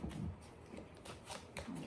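Soft, quiet riffling and sliding of a deck of tarot cards being shuffled, a few brief crisp bursts close by with no talking.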